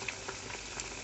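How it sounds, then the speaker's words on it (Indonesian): Salted fish fries in a pan with a steady close sizzle and small crackling pops, with no voices over it. "goreng ikan asin layer"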